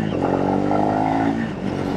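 A Triumph Speed 400 motorcycle being ridden and accelerating, its engine a loud steady droning growl that rises slightly in pitch, heard up close from the rider's position with wind noise.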